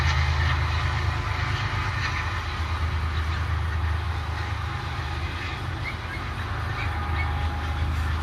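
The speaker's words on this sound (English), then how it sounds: "that train is so freaking loud." A loud train passes close by, its steady low rumble and rolling wheel noise filling the whole stretch without a break and with no talk over it.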